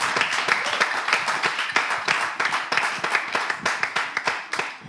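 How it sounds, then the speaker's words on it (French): An audience at a comedy show claps for an artist, a brisk, uneven rattle of many hands with a few sharper individual claps standing out, close and lively, steady throughout without speech. "On applaudit l'artiste."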